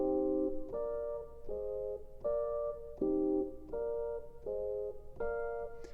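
A minor-key chord progression played on an Ableton Push 2, sustained synth chords changing roughly every three-quarters of a second in a steady looping rhythm, clear and alone with no voices.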